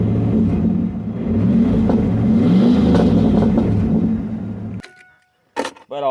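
A manual six-speed car engine idles and revs loudly nearby, its pitch rising and falling before it cuts off abruptly, then a few brief clicks follow.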